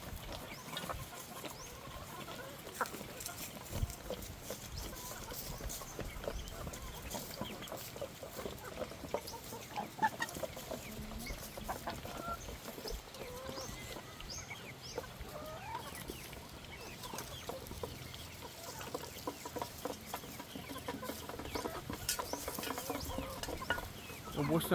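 Chickens cluck and squawk continuously in a busy, noisy barnyard mix, steady and moderately distant, with no one speaking.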